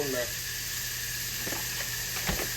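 Sausage sizzling in a frying pan during a country breakfast cook, a steady faint crackling hiss with a few soft pops.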